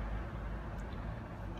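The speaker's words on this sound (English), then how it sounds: "Sorry for the background noise," Continuous low roar of passing car traffic heard in the background of a UK garden, fairly faint and steady with no voices.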